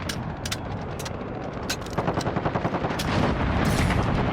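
Rapid automatic fire from the M91 machine gun in the Modern Warfare video game, a loud run of close bursts that grows denser and louder toward the end.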